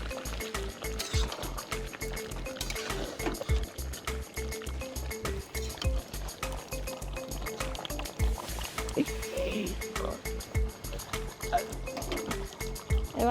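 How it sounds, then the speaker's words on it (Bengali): Hot water hits a pan of frying chicken curry with potatoes, a steady liquid bubbling and sputtering alongside a fast rhythmic knocking, with a voice speaking over it. "এবার আমরা গরম জল দিয়ে দেবো।"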